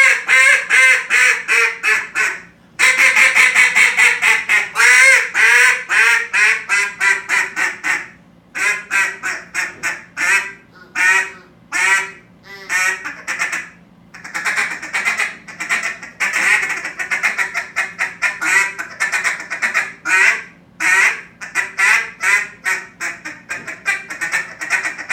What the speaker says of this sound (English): we're going to switch to a lot of feeding call with quacks mixed in